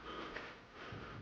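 A quiet, soft sniff at close range from someone, a brief breathy inhale over faint low background noise, heard alone without talk.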